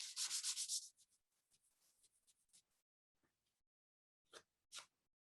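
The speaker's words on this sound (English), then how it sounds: "just a slight hit with that 400 grit cleans it right up" Light sanding with 400 grit sandpaper on an unconventional art piece: a burst of quick dry rubbing strokes up front, then scattered faint scuffs and two short swipes near the end, close and quiet with no talk.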